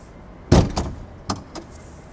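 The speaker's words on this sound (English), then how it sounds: "Let's go ahead and pop the hood here." The hood release of a 2021 Toyota Supra 2.0 is pulled, producing a sharp mechanical thunk followed by a few smaller clicks and knocks, close and clear with no talk.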